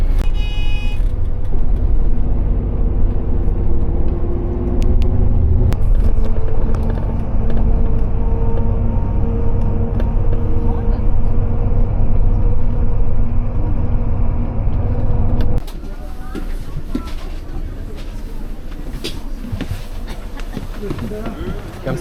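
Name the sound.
riding a small bus to Sokcho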